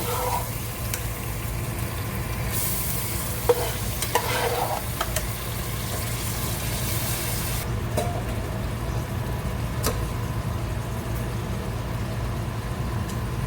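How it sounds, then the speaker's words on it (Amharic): Washed rice is stirred and sautéed in a little oil in a pot, giving a steady, close scraping and soft sizzle that continues without pause and without talk. "እንደዚህ እናመስለዋለን በደንብ።"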